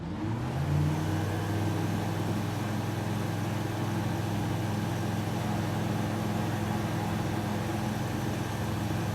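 Airplane engine at full throttle in Microsoft Flight Simulator, a loud, steady droning roar that climbs slightly in pitch at the start, then holds constant and alone throughout.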